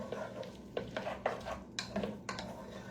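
Diced Roma-type tomatoes are stirred in a skillet, giving repeated wet scrapes and utensil knocks against the pan at a steady, moderate pace.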